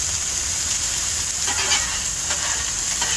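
Ribeye steaks searing on a camp cookout with a constant hissing sizzle, broken by a few light scraping and stirring touches.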